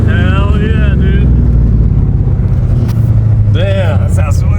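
A 5.3L LS V8 swapped into a BMW E36 drift car rumbles loud and steady throughout, with people talking over the engine.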